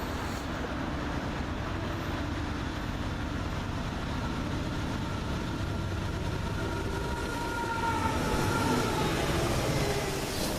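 Trains rumbling in and out of Pittsburgh's Conway Yard in a three-way meet, a steady low mechanical drone of rolling railcars heard from a distance, swelling slightly toward the end with no voices.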